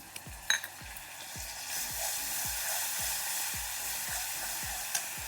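Grated tomatoes and seedless chili paste fry in mustard oil tempered with nigella seeds, giving a steady, close hiss of sizzling with a few sharp spatula clicks near the start.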